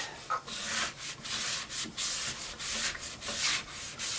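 Yorkshire grit abrasive is rubbed onto the inside of a turned wooden piece on a lathe, giving a close, rhythmic hissing scrub in quick repeated strokes with brief pauses between them.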